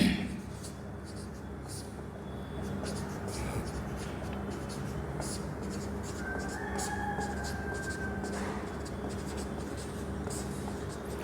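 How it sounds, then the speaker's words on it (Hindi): A pen writes out a definition during an accountancy lesson, giving a long, continuous, faint scratching of strokes close by over a low room hum, with no talking. "बट इसकी डेफिनेशन क्या है ये लिख देते हैं।"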